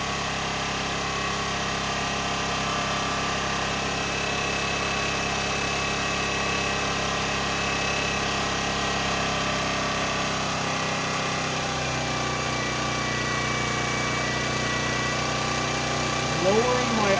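A generator engine idles slightly high, holding a steady loud hum the whole time, with a drop in pitch near the end as the idle is lowered.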